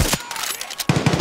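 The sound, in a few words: gunfire in video game Far Cry 6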